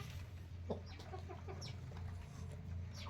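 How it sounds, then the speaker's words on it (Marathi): A hen clucks in short, quiet bursts over a low background hum, with a few faint bird chirps nearby. "रोनक हाकल रे तिला नाही तर अंडे खाऊन घेईन कोंबडीचे"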